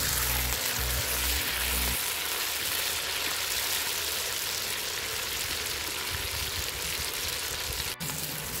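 Meat frying in oil in a kazan over a campfire for Uzbek plov gives a steady, dense sizzle throughout, with a low rumble early on and a brief knock near the end.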